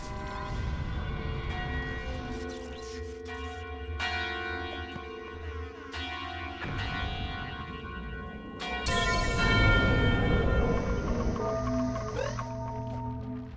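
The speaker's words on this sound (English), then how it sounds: "If you have sound on, you can listen to 3 chimes" The Grimbell in the game Super Bomb Survival rings out three times. The bell-like chimes are widely spaced and each rings with a bright, sustained tone. The third strike is the loudest, and game sounds play underneath.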